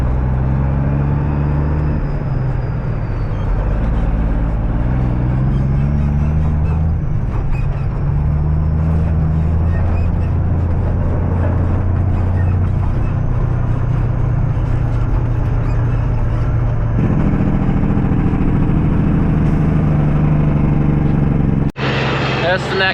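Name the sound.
white truck driving and idling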